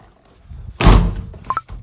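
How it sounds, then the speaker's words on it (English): A door slams shut indoors with one loud, heavy thud in a home in Abuja, Nigeria, followed by a couple of short, sharp knocks or clicks, likely from the latch or a handle. "Close the door."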